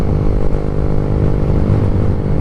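A Kawasaki Z125 motorcycle ridden in freezing 25-degree weather, its engine a steady, loud low drone filling the whole stretch with a constant rumble and no talk.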